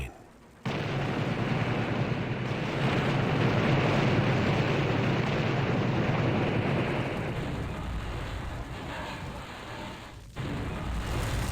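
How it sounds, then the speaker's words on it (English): A sudden, massive roaring train explosion in a video game swells into a long rumbling wash of debris and fire, then cuts off abruptly before a quieter rumble resumes. "Just don't die to the explosion like I did."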